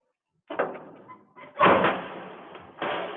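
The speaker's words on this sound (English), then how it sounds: "I can open the huge doors." Huge doors of an MCOS Mini machine being opened, heavy metallic thumps and sliding rumbles in several bursts after a brief silence.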